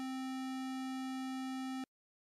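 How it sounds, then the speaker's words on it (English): A steady pure electronic sine tone holds at C4, a middle-range pitch, for about two seconds, then stops abruptly. "Here is a C note at octave 4."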